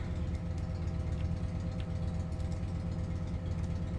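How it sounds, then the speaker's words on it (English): A neighbor's car sits idling outside, its engine a steady low rumble with a faint hum that carries on without a break for the full few seconds, with no voices over it. "They never ever pull in and just turn the freaking engine off."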